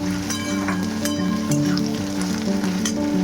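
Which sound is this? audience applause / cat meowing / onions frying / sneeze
onions frying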